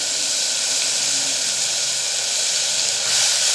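Rice and soaked lentils going into a pan of sizzling ginger-garlic paste, giving a steady, loud hiss of frying that holds evenly throughout and swells slightly near the end, with no voices.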